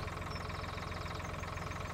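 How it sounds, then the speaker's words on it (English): Tractor engine idling in the Farming Simulator video game, a steady low rumble with a regular pulsing beat, held evenly throughout at moderate level with no speech. "This is the tractor that we were driving when we took the tour of town."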